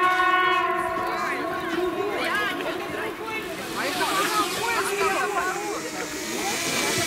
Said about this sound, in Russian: Поезд Деда Мороза. Смотри, он украшенный едет.